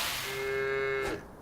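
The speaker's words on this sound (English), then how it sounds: "Got our Jersey cows, a couple of pens of those." A Jersey cow in the farming video game Farm Together lets out a single long, steady moo that ends abruptly, heard clearly with no talk over it.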